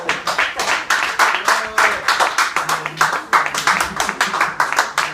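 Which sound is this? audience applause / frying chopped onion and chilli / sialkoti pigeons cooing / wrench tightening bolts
audience applause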